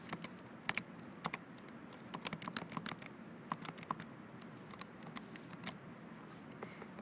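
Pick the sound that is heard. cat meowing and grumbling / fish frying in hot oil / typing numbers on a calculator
typing numbers on a calculator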